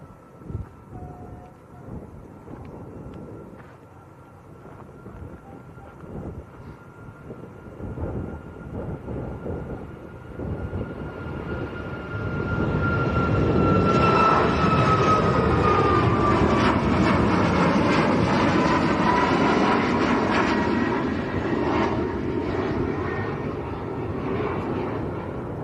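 A Ryanair Boeing 737 Max airliner bound for Madrid at Lanzarote Airport gives off a distant rising roar with a thin whine that swells into a loud, broad rush and holds steady.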